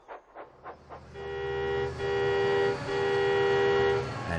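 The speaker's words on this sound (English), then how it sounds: "and Mavis likes her horn." Mavis, a diesel shunting engine, sounds a long, loud, steady horn blast close by, with a brief dip partway through, after a few quick chugging puffs.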